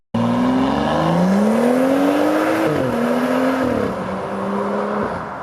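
A BMW F32 435i coupe's inline-six with an aftermarket exhaust, valve fully open, holds a smooth, loud, sustained drone whose pitch climbs and then eases off, heard near and alone.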